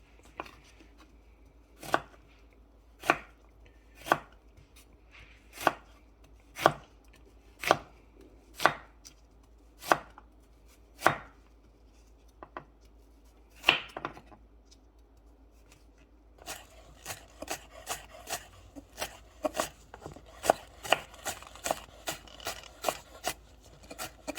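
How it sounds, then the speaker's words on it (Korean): Steady knife chopping of carrots on a cutting board, sharp evenly spaced close knocks that speed into a faster, busier run of cuts in the second half, with no talk. "그다음에 당근은 조금 잘게 썰어주셔야 돼요."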